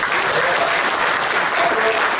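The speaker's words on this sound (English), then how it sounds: "Let's give him a round of applause," Applause from the audience at a BSidesKC 2018 security conference talk, a dense, steady wash of many hands clapping through the whole stretch at even volume.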